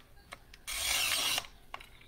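Glass cutter scoring a sheet of glass at a craft festival demonstration: one steady, bright rasping stroke lasting under a second, close and fairly loud, with faint taps and handling sounds before and after.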